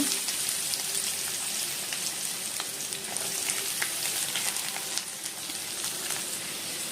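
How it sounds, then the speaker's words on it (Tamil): Onions frying in hot oil with cardamom and fennel seeds for a prawn thokku, giving a steady, dense sizzle and crackle with scattered pops, close and continuous with no talking. "இதெல்லாம் நல்லா பொரிஞ்சு வரட்டும். நல்லா பொரிஞ்சு வந்ததுக்கப்புறம் ஆனியன் சேர்த்துக்கோங்க."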